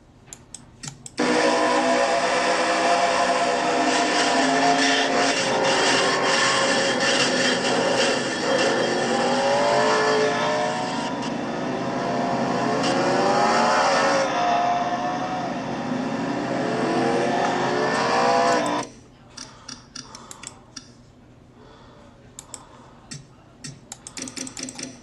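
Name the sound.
race car on track, onboard camera ride-along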